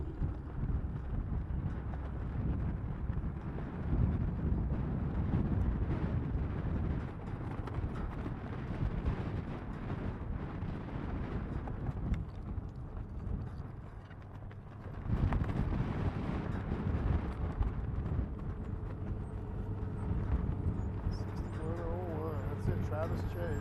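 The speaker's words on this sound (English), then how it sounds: "the wind is cooking" Strong wind buffets the microphone at an outdoor racing event, a steady low rumbling roar that lasts throughout and swells in gusts, with people talking over it.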